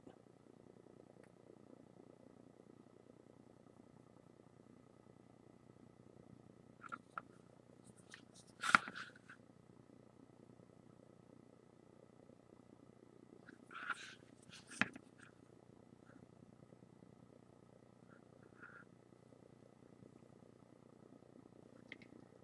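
A pet cat purring faintly in the background of a quiet room, a low steady rumble broken by a few brief scuffs and taps.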